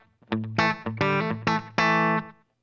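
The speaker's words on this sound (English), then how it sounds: "Maybe actually just turn the reverb off, so you can actually hear just the delay on its own." Electric guitar through a Line 6 HX Stomp delay effect with reverb off, set for a country tone: five plucked notes and chords ring out in sequence, each followed by audible repeating echoes, close and clear with no talk.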